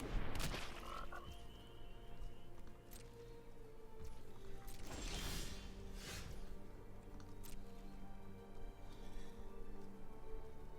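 Croaking frog sounds from a frog card in the digital card game MTG Arena play under game music and interface effects, with a few sharp impact noises.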